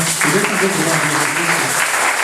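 Congregation clapping during a French church service, a steady, loud, continuous wash of hands that fills the whole moment, with voices mixed into it.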